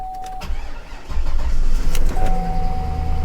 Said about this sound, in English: I put the key in it. Don't bet it's gonna start.